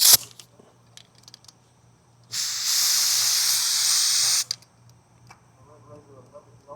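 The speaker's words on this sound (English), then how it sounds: "Get our spray gun." A spray gun sprays upholstery glue for wrapping car door panels in vinyl or leather, one loud steady hiss lasting about two seconds, close by, with faint clicks before and after.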